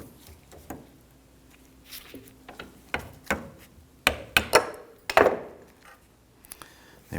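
Hammer taps knock a rusted vapor canister purge solenoid from a 2006-2010 Hummer H3 loose from its bracket in a vise, a run of sharp metallic strikes, sparse at first, then louder clustered blows near the end.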